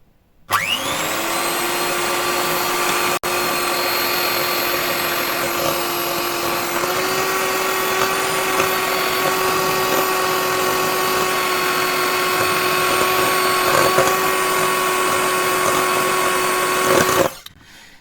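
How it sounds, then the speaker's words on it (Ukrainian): An electric mixer whips egg-free gelatin icing in a steady, loud, continuous whir that holds a constant pitch for about sixteen seconds, then cuts off sharply. "далі беремо міксер і починаємо взбивати"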